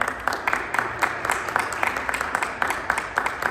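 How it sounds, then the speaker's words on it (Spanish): An audience at a university panel talk claps steadily and enthusiastically, a dense patter of many hands filling the room throughout. "También un fuerte aplauso para Rocío"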